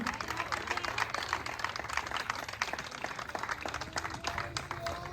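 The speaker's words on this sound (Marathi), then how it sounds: "जोरदार टाळ्या काकूसाठी" An audience at a sangeet ceremony claps loudly and continuously for an aunt after her performance, a dense crowd applause that runs throughout, with a faint voice underneath.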